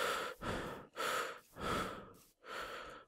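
Slow, deep breaths in and out, four long rhythmic cycles with brief pauses between them, close and fairly soft, from a Minecraft survival game.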